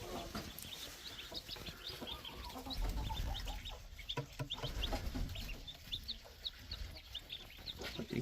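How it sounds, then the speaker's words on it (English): Farm chickens cluck and chatter inside a coop, many soft overlapping calls at close range, quiet and continuous with light scuffling underneath. "we put them in the coop with the rest of the chickens"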